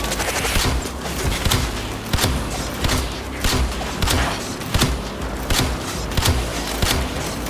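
Gunfire in the sci-fi shooter Warframe, with loud, rapid bursts of automatic shots and heavy thumps repeating in close succession throughout.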